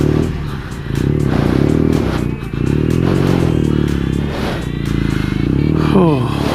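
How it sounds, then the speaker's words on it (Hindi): A motorcycle labours uphill through thick mud and slush on the road toward Chitkul, its engine droning steadily and loudly with shifts in pitch as the rider works the throttle and the tyres slip. "अच्छा टफ टास्क यहाँ से मोटरसाइकिल को निकालना इतने स्लश में से, और वो भी चढ़ाई पे।"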